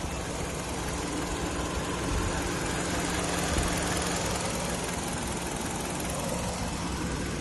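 A 2011 Hyundai Sonata's 2-litre petrol engine idles at close range, a steady, even hum that holds without change for the whole stretch, with no voices over it.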